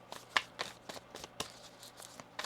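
Tarot cards are shuffled by hand in a quick series of soft, crisp riffling flicks, about nine short bursts in a loose rhythm, close and quiet with no talking.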